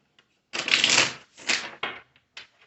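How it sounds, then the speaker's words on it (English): Tarot cards are shuffled in a few quick riffling bursts, close and crisp, with short pauses between them. "Alright, this will be our last shuffle."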